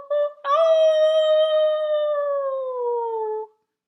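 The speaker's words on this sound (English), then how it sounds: "Just then the coyote across the river gave a howl." A coyote howls from across a river at night: one long, clear, sustained howl that slides slowly downward in pitch and fades out, heard alone with no talking.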